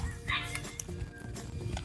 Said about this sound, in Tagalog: Apak ng kabayo.